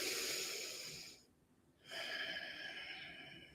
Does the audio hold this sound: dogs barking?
no